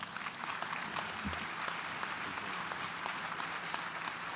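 An audience at the 2015 President's Gala and Hall of Fame Awards gives a round of applause, a soft, even patter of many clapping hands heard from a distance and sustained throughout.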